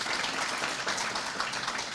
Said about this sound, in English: I want us to give a round of applause to Professor Muteti